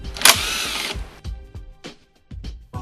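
Power drill or impact driver briefly spinning out bolts from the seat area of a Bajaj Pulsar NS200 motorcycle, one loud whirring burst followed by faint clicks and handling knocks.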